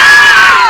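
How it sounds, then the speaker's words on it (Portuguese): Fans queueing for a concert let out a loud, sustained shout, a dense crowd cheer that holds steady for under a second. "Vai, grito de novo."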